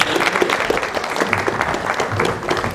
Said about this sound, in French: Est-ce qu'on peut acclamer le Seigneur pour eux?